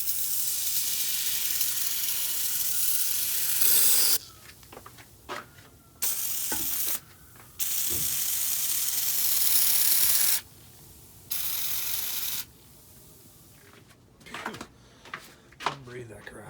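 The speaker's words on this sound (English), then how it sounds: "You just spray it everywhere, and then you scrub it, spray it again, hose it off" Bursts of hissing spray come on and off repeatedly, some long and some short, with brief clicks and handling noises in between.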